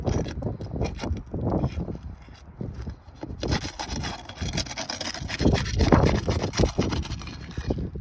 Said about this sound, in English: First thing I have to do is unseal the damaged shingle.